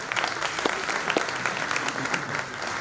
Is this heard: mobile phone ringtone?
no